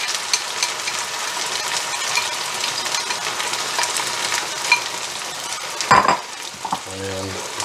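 Tomato sauce poured over ribs in a slow cooker, a loud, close, continuous wet rushing hiss that ends with a short clunk and a brief spoken voice.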